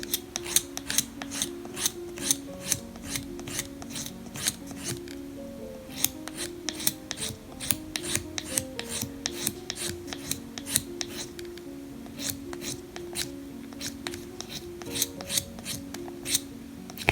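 A Høvel pencil sharpening plane shapes the end of a pencil with quick, regular rasping strokes, a dense rhythmic scraping that runs close and steady throughout with no speech.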